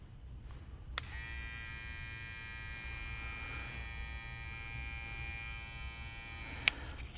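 An FX1 Gold FX cordless hair clipper runs with a steady, fairly quiet electric buzz and hum, starting with a small click and ending with another, with no talking.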